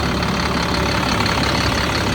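An older truck engine idles with a steady, even rumble, loud and close, with no talk over it.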